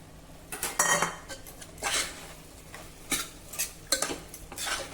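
Cooked chickpeas and washed rice stirred into spices in a pot, a spoon scraping and clinking against the metal in irregular bursts with a faint sizzle underneath, close and fairly quiet.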